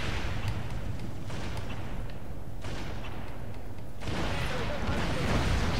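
Gunfire in Halo: Spartan Assault as a turret is destroyed, with repeated heavy shots and thuds in several bursts and players talking over the action.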